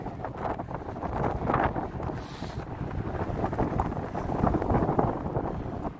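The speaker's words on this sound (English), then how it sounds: "it's going to be hard to hear me with the wind here" Strong wind gusts roaring across a snowy open plain, buffeting the microphone in a loud, continuous rush that swells and eases without a break.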